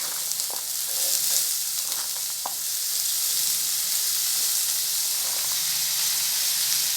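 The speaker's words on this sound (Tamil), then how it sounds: "எண்ணெயிலே 2-3 நிமிஷம் இந்த கேரட் அப்படியே வதங்கி வரட்டும்." Chopped carrots and onion fry in hot oil in a pan, giving a steady, close sizzling hiss with a few faint stirring clicks and scrapes running throughout.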